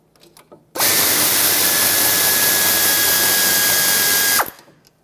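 A power tool spins out the brake caliper bolts on a 2014–2021 Mazda 6 rear hub, one loud continuous whirring burst of about four seconds, close up, with a few faint clicks before and after.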